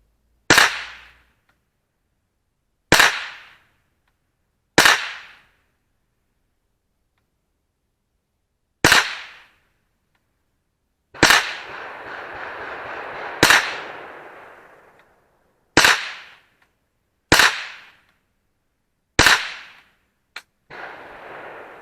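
Single sharp shots from a Savage Model 64 .22 LR semi-automatic rifle, nine cracks spaced irregularly a few seconds apart, each loud and crisp with a short decay, and a brief rustle between two shots.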